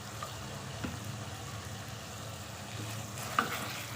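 Chicken and vegetables cook in a pan with a soft, steady sizzle and faint scraping of a utensil, quiet and even throughout with a small clink near the end.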